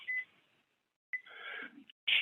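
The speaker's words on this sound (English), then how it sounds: "Let me set the timer again." Electronic beeps from an RV oven timer being set: a short tone, then a longer sustained beep with a lower hum, then another sharp beep at the end, close and fairly clear with silence between.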